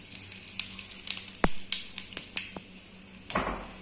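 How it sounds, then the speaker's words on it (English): Cumin seeds sizzling in hot oil in a pan, the start of a pomfret fish curry, a light crackling sizzle with scattered sharp pops and spits, one louder burst near the end. "The oil is hot now. First, we will add some cumin seeds,"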